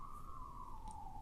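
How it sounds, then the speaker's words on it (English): A siren passes outside, heard indoors as a steady, slightly falling wail held throughout, moderately faint behind a room hiss and with no voices. "Sorry about that siren."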